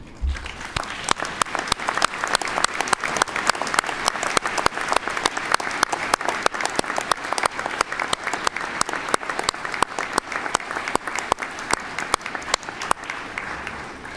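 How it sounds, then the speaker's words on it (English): A graduation ceremony audience at Swinburne gives a long, sustained round of applause, with dense, continuous clapping from a large crowd in a hall that holds steady throughout. "join me in a round of applause to say thank you to those who've helped"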